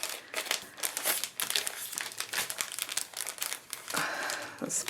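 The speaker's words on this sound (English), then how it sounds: "I am going to stick the whole entire thing in a larger bag, like so." A plastic bag crinkles and rustles in bursts as a handmade gift card holder craft is slipped inside to protect it, close and fairly quiet, with short crackling pulses and no talking.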